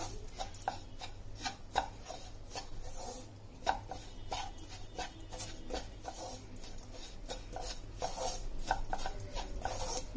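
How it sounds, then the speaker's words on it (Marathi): Gram flour (besan) with a little sugar roasting in a pan, stirred and scraped with a spatula in irregular, close scratchy strokes over a steady low hum, with no talking. "आपलं बेसन भाजत आलेलं आहे."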